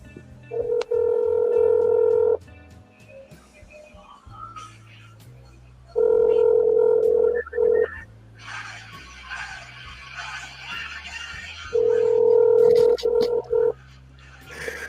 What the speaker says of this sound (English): Here's ringtone.